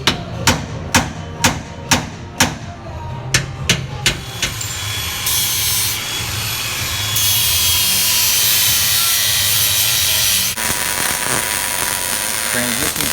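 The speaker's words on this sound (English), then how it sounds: "He's got the big fucking hammer out." A big hammer strikes metal on a NASCAR car being rebuilt in a quick series of loud, sharp clangs, followed by a steady roar of grinding or cutting.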